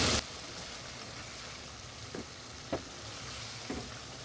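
Boiled potatoes frying in oil-topped masala for an egg and potato curry, a steady sizzle with a few soft scrapes of stirring, close and unaccompanied by talk.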